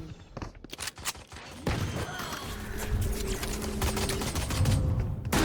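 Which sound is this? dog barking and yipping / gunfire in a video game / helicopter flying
gunfire in a video game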